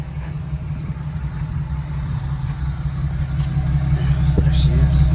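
A 1981 Datsun 280ZX with its L28 inline-six idles through a new muffler, a steady low rumble that grows slightly louder toward the end, with no talk over it.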